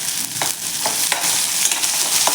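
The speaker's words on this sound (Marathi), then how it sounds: "आपला कांदा आपण छान असा एक दोन मिनिट असा परतून घ्यायचा आहे मीडियम गॅसवर" Finely chopped onion with cumin and asafoetida sautéing in a pan over medium heat, a steady close hiss of frying with a few scraping stirs spaced through, no talking.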